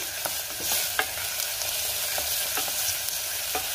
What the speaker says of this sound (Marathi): आता हे वाटण आपण 1 मिनिटभर परतून घेऊया।